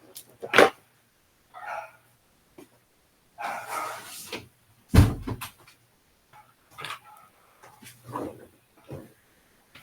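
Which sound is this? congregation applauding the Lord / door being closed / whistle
door being closed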